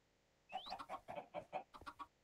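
A baby chicken in Minecraft 1.19 clucks as it is fed seeds, a rapid run of about ten short, evenly spaced clucks, soft and close with nothing else around.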